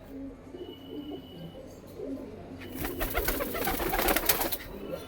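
Racing pigeons in Amritsar, soft cooing and faint ambient noise at first, then a burst of louder fluttering wing flaps and rustling close by as a bird is released.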